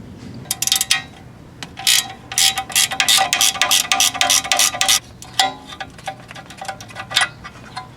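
Ratcheting wrench working a 13mm bolt loose from the dipstick tube on a VW/Audi engine, with bursts of rapid metallic clicks separated by short pauses, close and fairly loud.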